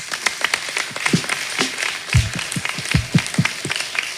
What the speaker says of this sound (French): merci à la directrice générale de la RTG par vos applaudissements